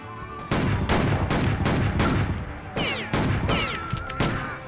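Gunshots fired from windows in the video game Red Dead Redemption 2 ring out as a run of loud, sharp reports about every half second, each with a short echoing tail, close and without speech.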